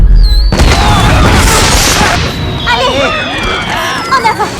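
A loud explosion in a film bursts with a heavy boom at the start, then a rumbling crash and debris decay, followed by high whistling or screeching tones as the blast fades.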